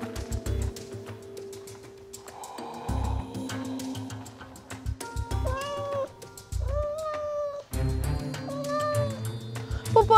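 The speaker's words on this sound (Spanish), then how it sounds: "Es un gatito maullando." A kitten meows repeatedly, several high, drawn-out cries with bending pitch, heard close over a background of music and muffled thumps, with some quiet voices in between.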